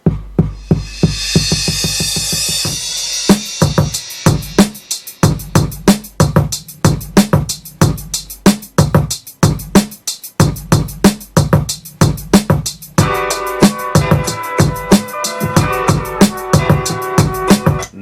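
A looping music sample with a steady beat and warm, mellow chords repeats unchanged for the whole stretch. It plays on its own, with no voices over it.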